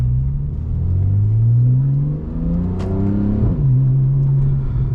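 A 2015 Porsche 911 Carrera 4S with PDK and Valvetronic exhaust pulls hard with a loud rising growl, dips briefly as it shifts, then climbs again, deep and close throughout.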